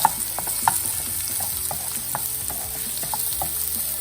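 Chopped onions and fennel seeds sizzle in hot grapeseed oil, a loud, steady close frying hiss broken by scattered pops and crackles, no voices.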